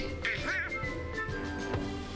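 Donald Duck quacking in the video game Kingdom Hearts, a few raspy nasal quacks over steady game music and ambience, fairly quiet.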